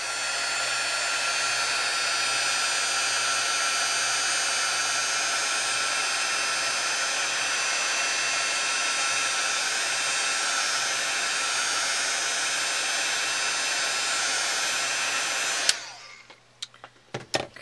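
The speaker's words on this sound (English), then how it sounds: "I got a nice clear coat on there. I'm going to dry it real quickly." A heat tool blows in a loud, steady, continuous hiss for about fifteen seconds while drying clear coat on a small card, then cuts off, leaving a few faint handling clicks and knocks.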